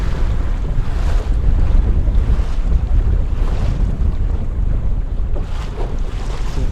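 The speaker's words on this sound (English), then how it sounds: "The only problem now is that there is a lot of waves." Choppy waves slap and wash around a sailing canoe running under its mizzen sail in strong wind, with constant loud wind buffeting the microphone and no talk.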